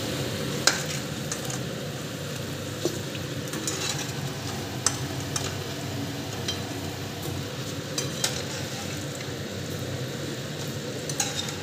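Crispy chicken fingers fry in hot oil with a steady, close sizzle, broken by scattered sharp pops and crackles throughout, with no talking.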